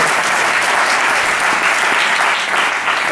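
An audience at a conference on advertising self-regulation breaks into brief, steady applause, dense clapping filling the room without speech.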